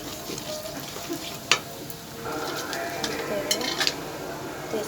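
Cumin seeds tossed into hot oil left from frying pointed gourd, a close steady sizzle with a few sharp clinks of a utensil against the pan.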